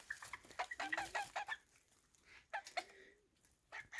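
Young chickens, a few months old, cluck and chirp in short, scattered calls around a farm feeder, with a few rising squawks; moderately close and fairly quiet, with no talking.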